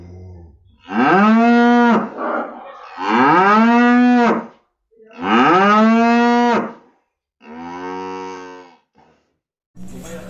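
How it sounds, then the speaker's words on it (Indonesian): Cows mooing in a pen of breeding heifers, several long, loud calls one after another with short pauses between them, close by and not covered by talk. "Ini ada banyak sekali sapi calon indukan dan ini lumayan banyak teman-teman."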